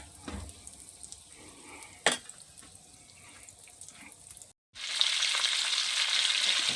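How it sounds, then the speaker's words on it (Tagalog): Butter melts and sizzles in a frying pan. Soft kitchen clatter comes first, then after a brief pause a loud, steady hiss of frying fills the rest. "Bali kalahati lang gagamitin natin na butter dito guys. So, tunawin lang natin."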